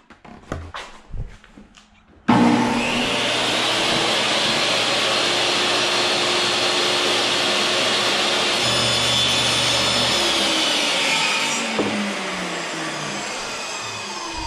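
A DeWalt table saw cuts through wood in a barn workshop, a few sharp knocks first, then the saw spins up abruptly into a loud sustained whine that holds steady and eases slightly near the end.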